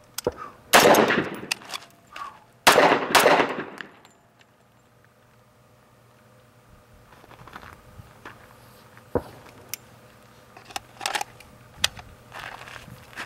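Carbine rifle fired at fight speed on a training range: two loud, sharp strings of rapid shots early on, followed by quieter clicks and handling noises of the weapon.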